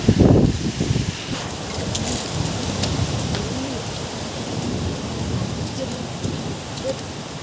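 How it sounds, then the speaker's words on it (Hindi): Rain pours down in a village, a dense and steady hiss close to the microphone, with some rumbling wind buffeting throughout. "मैं बारिश में घूम रहा हूँ।"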